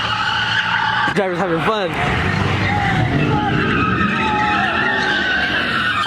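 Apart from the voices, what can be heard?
car doing burnouts with tires skidding at a car meet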